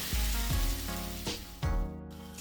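Broccoli, green peppers and onions hit a hot pan with loud, bright bursts of sizzling, several splashes in quick succession and a steady hiss between them.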